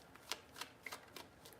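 Soft, quiet riffles of tarot cards being shuffled, several short papery bursts spaced apart, with no talking.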